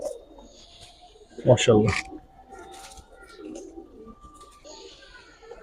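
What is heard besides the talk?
Giribaz pigeons cooing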